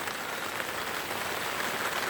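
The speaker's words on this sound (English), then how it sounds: "it's been raining so heavy I've woke up a bit early" Heavy rain falls steadily and close by at dawn on a wild wet day along the Cape Wrath Trail in the Scottish Highlands, a dense, even hiss with no pauses and no voices.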